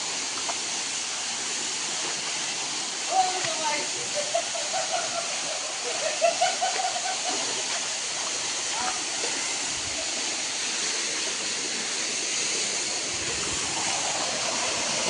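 A waterfall in Hailakandi gives a constant, loud broadband rush that fills the whole stretch, with faint voices briefly audible beneath it partway through.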